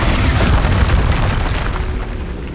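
Hogwarts Legacy's Expulso blasting spell detonates in a loud, close, rumbling explosion that sustains a deep roar and slowly tails off, with no talking.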